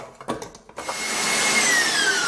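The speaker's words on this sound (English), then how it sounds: "So back on the mixer." An electric mixer whips a semifreddo yolk mixture, starting with a few knocks and clatters before settling into a steady, loud whirring drone that fills the rest of the moment close by.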